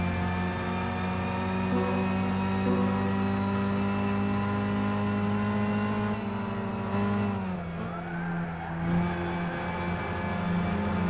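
Race cars in the video game Gran Turismo 6 on the Suzuka circuit, a steady high-pitched engine whine that dips through a corner as one car overtakes, then climbs again; a commentator speaks over it.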